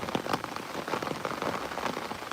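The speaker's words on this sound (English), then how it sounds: "Oh, it's getting a little bit heavier," Rain patters steadily on surrounding surfaces outdoors, a dense close hiss of drops that stays even throughout with no voices.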